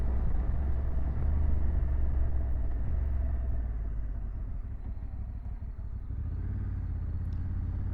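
A 2025 Honda CRF1100 Africa Twin DCT motorcycle carrying two riders through town, its engine a steady low rumble that eases slightly as it slows, heard close and continuous with no talking.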